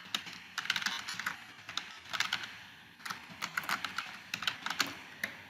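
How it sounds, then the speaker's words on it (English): Typing a title on a computer keyboard, a quick run of close, crisp key clicks in bursts with brief pauses, alone without speech. "we will type in the title"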